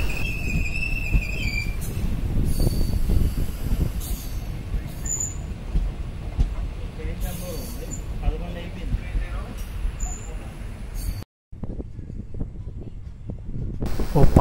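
An unreserved express from Kachiguda to Medak rumbles along inside a coach on a hot day, a continuous low roar of wheels and car noise with brief clanks, fairly loud, broken by one short dropout near the end.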